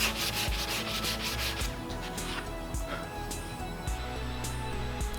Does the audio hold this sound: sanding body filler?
yes